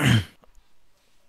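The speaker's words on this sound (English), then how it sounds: "allow me to clear my throat and such" A single loud throat clearing at close range during a tabletop role-playing game playtest discussion, lasting a fraction of a second and followed by near silence.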